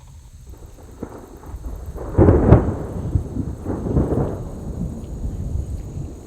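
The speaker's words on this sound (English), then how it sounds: "We are surrounded by thunderstorms at the moment." Thunder from storms in the high mountains rolls in a deep, drawn-out rumble that swells to a loud peak and then fades in uneven waves, heard close with no talking.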